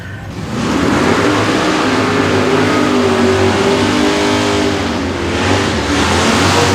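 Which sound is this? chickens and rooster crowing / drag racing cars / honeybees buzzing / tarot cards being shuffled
drag racing cars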